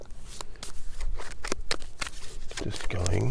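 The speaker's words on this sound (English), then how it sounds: "Do a real nice shuffle here." Tarot cards being shuffled by hand in a run of crisp riffling bursts, close and fairly loud, with a soft voice-like tone toward the end.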